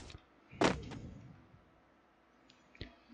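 A sharp, loud gunshot crack in the video game Free Fire, followed by a short decay, then quieter distant pops near the end.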